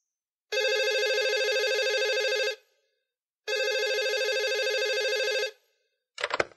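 Telephone bell ringing in an English listening exercise: two long, loud electronic rings separated by a pause, followed by a brief sound at the end.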